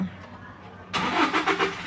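A Toyota Fortuner SUV engine starting via push-button start, a sudden burst of cranking that catches into a rough, pulsing idle midway through, close up and loud.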